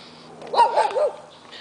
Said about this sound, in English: oh, little doggy